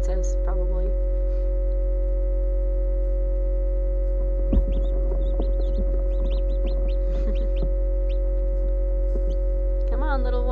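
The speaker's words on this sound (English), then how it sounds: "Got a couple different breeds of chicken out there, but most of them are Orpingtons, just different colors." Orpington chickens in assorted colours cluck and call intermittently near a hatching setup, with a steady mains-like hum underneath and a sharper burst of clucking partway through.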